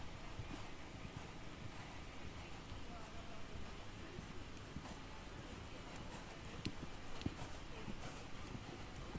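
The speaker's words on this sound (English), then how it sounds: "A bold extended canter there across the long side, across the diagonal." Faint horse hooves thud in a steady rhythmic clip-clop as a dressage horse moves in an extended canter across an arena, heard from a distance under a low background hush.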